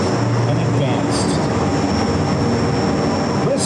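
Boeing Stearman biplanes flying overhead at an airshow give a loud, steady engine drone throughout, with a commentator speaking over the noise.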